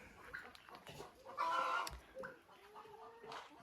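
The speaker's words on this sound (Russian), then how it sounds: "Эти индюшата с цыплятами чубатого доминанта, курочками." Turkey poults and young crested dominant chickens clucking and cheeping in a coop, a scatter of soft calls with one louder squawking burst midway, fairly close amid quiet barn ambience.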